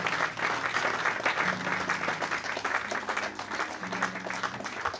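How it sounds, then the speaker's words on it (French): A church congregation applauds during a service, many hands clapping in a thick continuous wash, moderately distant, with low murmuring voices underneath. "applaudissez pour moi, s'il vous plaît"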